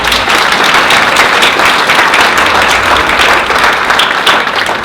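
Enthusiastic audience applause at a chamber of commerce event, loud, dense and sustained clapping throughout with no speech over it.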